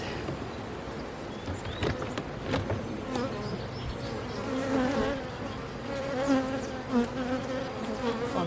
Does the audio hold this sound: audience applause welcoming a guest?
no